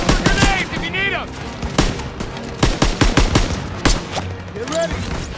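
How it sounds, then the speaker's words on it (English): Call of Duty WWII campaign battle with repeated sharp rifle and machine-gun shots cracking close by amid shouted voices and chaotic combat noise. "Suppressive fire! Keep firing!"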